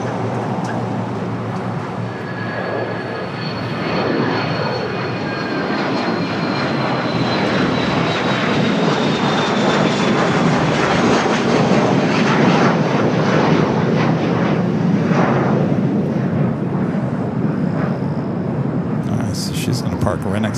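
A United jet rolls for takeoff on LAX runway 25 right, full length, its engines building into a loud, sustained roar with rising whine while people talk over it.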